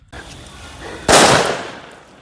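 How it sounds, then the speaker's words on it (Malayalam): Firecrackers set off for the Vishu festival give one sudden loud, sharp burst about midway, followed by a hissing, crackling decay, with only faint background noise before it. "നമ്മൾ ഇന്ന് പടക്കം പൊട്ടിക്കാൻ പോവുകയാണ്"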